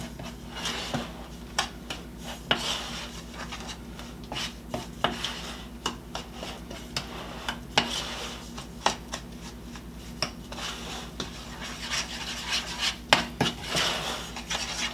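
Oatmeal carrot muffin batter is mixed in a bowl, with continuous scraping, rubbing and clattering of a utensil against the bowl in an uneven, busy rhythm.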